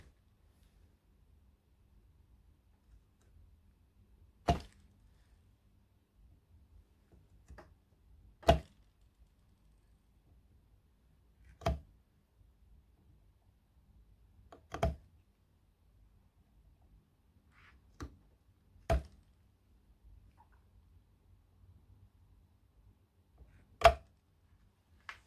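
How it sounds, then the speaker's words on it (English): A pocket knife shaving material off the ends of a wooden slingshot: sharp, isolated cuts or snaps every few seconds, about seven in all, each crisp and brief against near silence. "Get the pocket knife out and just take a little bit of material off the ends."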